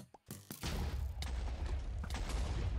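A TNT cannon fires during a competitive Minecraft-style match, a sharp blast kicking off a dense, sustained roll of booming explosions and crackling gunfire-like bursts that stays loud to the end.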